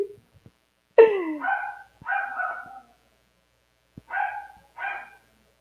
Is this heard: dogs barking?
yes